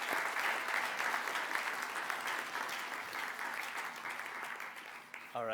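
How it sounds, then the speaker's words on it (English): Audience applause at a graduation ceremony, a full, sustained wash of many people clapping that holds evenly, then thins slightly at the end as a voice begins. "they definitely deserve a big round of applause for that"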